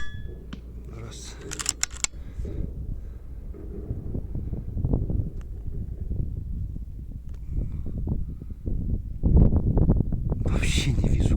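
Strong wind buffets the microphone at an outdoor shooting range, a loud continuous rumble with gusts that swell near the end, while someone talks over it.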